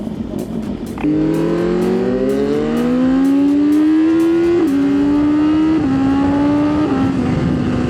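A Yamaha MT-09 motorcycle accelerates hard, its engine rising in pitch through several gear changes, loud and close from the rider's position with steady wind noise.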